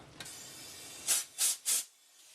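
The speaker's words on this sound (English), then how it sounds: "We may also use some compressed air to make sure that they're going to be clear" Compressed air blows through hoses off the charcoal canister of a 1999 Hyundai Elantra, three short loud hissing bursts in quick succession after a faint click and low background hiss.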